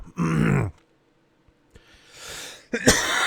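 A man coughs and grunts in a few close, harsh bursts separated by short pauses, with no talking.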